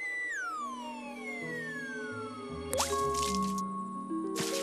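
Cartoon water sound effects in a dry jungle: sliding whistle-like tones, then a cluster of bright splashy drips and plops, closing with one more drip, up close with no talk.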